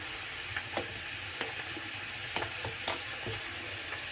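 Apple slices frying until golden in a pan, a soft, steady sizzle broken by light clicks and taps of a utensil, fairly quiet and close, no talk.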